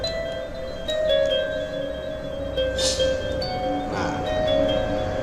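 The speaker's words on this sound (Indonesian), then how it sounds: "ini lebih jelas ya, ding-dingnya lebih jelas ya" Bright ding-ding bell tones from a digital music mixer, a few sustained chimes ringing over a steady background hum, fairly clear and repeated through the passage.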